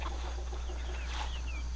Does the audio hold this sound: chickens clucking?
yes